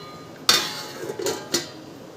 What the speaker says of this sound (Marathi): तर चला झाकण ठेवते आणि इकडं पण भातावर झाकण ठेवते